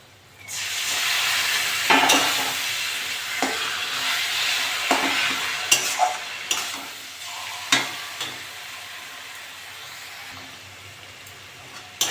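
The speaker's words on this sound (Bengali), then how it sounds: "কচু শাকটা ভালো করে নেড়ে চেড়ে নিয়েছি।" Taro leaves with prawns sizzle loudly in a hot pan, and a spatula scrapes and knocks against it at intervals as they are stirred, close by, with the hiss easing toward the end.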